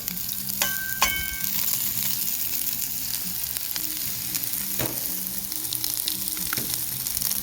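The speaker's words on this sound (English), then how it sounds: "we're going to let these saute down real good." Chicken sautéing in a pan for smash burger sliders: steady loud sizzling and frying throughout, with a few sharp clinks of a utensil against the pan, close and continuous, with no talking.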